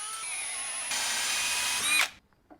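Power drill spinning a drill bit, a steady whine that steps up in pitch about halfway through, then cuts off abruptly.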